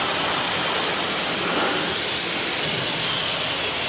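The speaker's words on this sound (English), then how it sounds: "I'm going to do an initial rinse just because you don't want all-purpose cleaners drying." Steady, loud hissing spray of water from a pressure hose rinsing a car's paint during a wash, a continuous broadband rush with no pauses, close to the surface.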